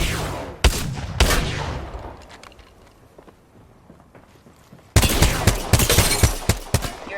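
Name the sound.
gunfire in a video game battle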